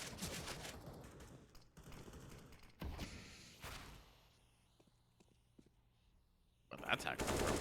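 Counter-Strike gunfire on the Mirage map during a competitive esports match, bursts of rapid shots early on, then quieter scattered clicks and steps before another loud burst at the end, with commentators talking.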